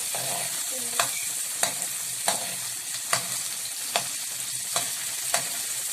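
Ginger drops into a hot pan for pork tinola, bringing a constant sizzle broken by regular scraping stirs roughly every half second to second, close and fairly loud with no talking.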